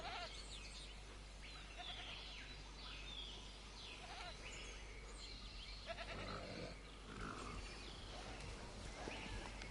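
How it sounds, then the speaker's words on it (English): A goat in the video game Jurassic World Evolution gives several wavering bleats at a moderate distance. They sound over a faint ambient bed with a few other scattered animal calls, and no one speaks. "Oh, I hear the goat."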